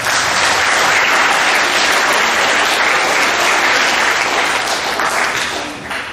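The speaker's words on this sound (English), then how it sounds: "Everyone give yourself a big round of applause." Audience applause fills a middle school awards assembly, a dense, loud, steady wash of many hands clapping for about six seconds before tapering slightly at the end.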